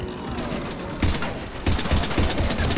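Rapid automatic gunfire in the Mass Effect 3 video game, loud bursts of machine-gun fire stacking into a dense fusillade during a firefight with husks.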